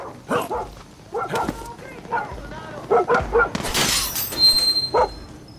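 A dog in Far Cry 6 barks and yips several times in short bursts alongside a crash of breaking glass, with voices speaking between the barks.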